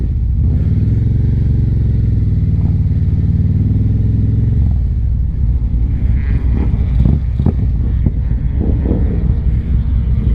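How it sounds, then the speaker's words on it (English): Harley-Davidson motorcycle engine heard while riding, a loud continuous low rumble with wind buffeting that shifts as the engine changes revs and is joined by clattering toward the end. "Man, y'all hear that bike back there?"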